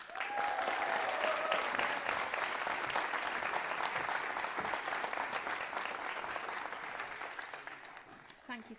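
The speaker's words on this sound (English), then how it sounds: "Can we have a big, big round of applause for the wonderful Litsa Begum?" A political manifesto launch audience gives a big round of applause for a speaker: steady, dense clapping from many hands that starts at once and slowly thins out toward the end.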